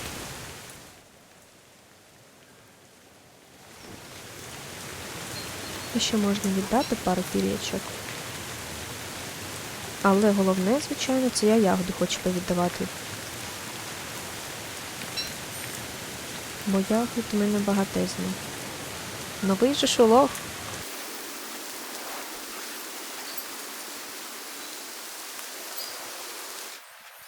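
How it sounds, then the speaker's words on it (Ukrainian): Steady rain falls in Don't Starve: Hamlet as a soft, even hiss for about seventeen seconds before stopping abruptly, while someone talks over it. "Такі дощі коротенькі."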